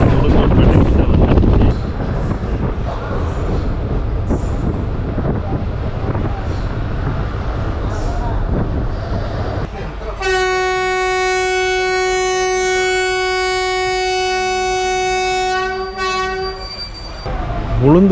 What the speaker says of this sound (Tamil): இப்போ ட்ரெயின் உளுந்தூர்பேட்டை கிட்ட வந்து